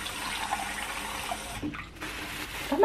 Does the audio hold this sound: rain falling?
no